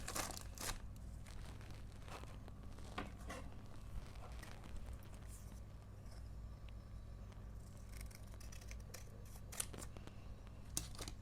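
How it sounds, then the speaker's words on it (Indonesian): Scissors snip repeatedly through folded doily paper for a craft sheep, a steady run of crisp cutting sounds over a low background hum, close and fairly loud, with no talking. "Ini kita lipat dua dan kita gunting saja."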